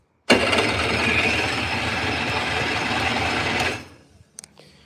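An engine with no choke or primer cranks and catches, roaring steadily for a few seconds before cutting out abruptly, followed by a couple of faint clicks.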